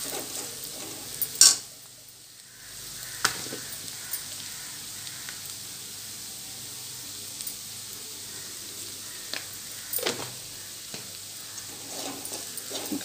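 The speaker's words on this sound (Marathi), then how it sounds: "छान मिक्स करून घ्यायचं" Onion-garlic masala and salt are stirred into a pan for pawta usal, a faint sizzle with soft scraping strokes of a spoon, a sharp clink near the start and scattered light taps over a steady low hiss.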